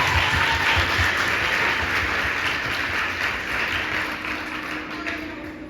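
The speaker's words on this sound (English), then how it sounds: "this really deserves a big round of applause." Applause from the audience at a book handover ceremony at a Cape Town secondary school: dense, sustained clapping from many hands, fairly close and loud, gently fading toward the end, with no speech over it.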